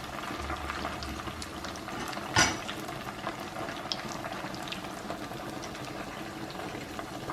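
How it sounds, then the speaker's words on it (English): Shrimp patties frying and crisping in a pan, a steady soft sizzle and crackle throughout with one brief louder spatter early on. "So we're just letting the patty crisp up."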